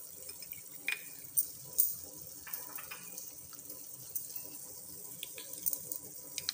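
Water trickles and splashes as it is poured into gram flour (besan) in a bowl while making dahi aloo, a quiet close pouring with a few brief clinks of utensils and no talk.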